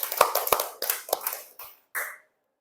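A few sharp hand claps in a classroom setting, irregular and close, followed by a couple of slower, softer claps, with short silences between and a quiet stop at the end.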